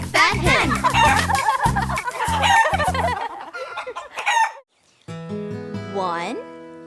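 A hen clucks and a rooster-like crow sounds, mixed with a voice and music from the nursery rhyme One, Two, Buckle My Shoe, lively and loud, then a brief pause before a melodic passage.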